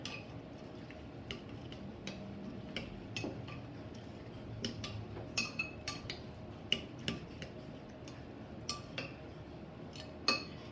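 A spoon mixes overnight oats ingredients in a container, giving a series of light, irregular clinks and taps over a quiet background, with no talking.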